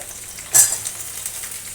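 Okra is tipped into a pan of potatoes already frying, setting off a short sharp burst of sizzling that fades into a faint, steady crackle close by.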